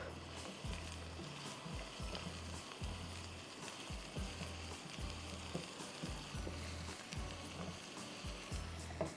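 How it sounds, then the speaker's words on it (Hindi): Chopped onion, a cup of it, hits a hot pan and sizzles steadily throughout, with regular low thumps pulsing beneath the frying hiss. "चॉप्ड अनियन डाल दिया आपने।"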